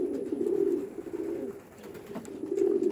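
Racing homer pigeons coo in soft, rolling low phrases close by, repeating in a few swells over a quiet background with no talk.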